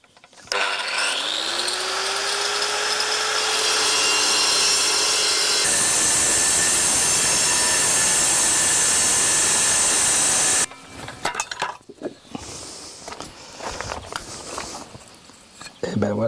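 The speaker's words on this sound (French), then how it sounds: "pour couper la meuleuse, avec un disque diamant." An angle grinder with a diamond disc cuts reconstituted stone paving: the motor winds up with a rising whine, then a loud, sustained grinding hiss before stopping abruptly, followed by scattered clatter and handling noises.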